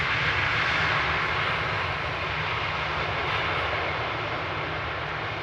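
A Vueling airliner arrives at Amsterdam Schiphol from Barcelona, its engines producing a steady, loud broadband roar that holds for the whole stretch with no talking.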